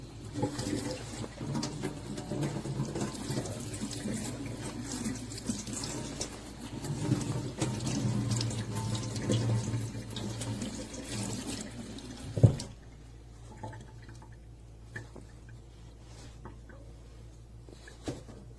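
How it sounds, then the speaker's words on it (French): A jacket held under a running tap, with steady water splashing loudly across the fabric for about twelve seconds before the flow stops abruptly, leaving a quiet room with faint drips and small handling sounds. "Donc là, hop, on va passer sous l'eau."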